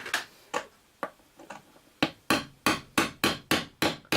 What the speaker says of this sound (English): Push it down with my nail punch so I don't actually hit the point motor with my hammer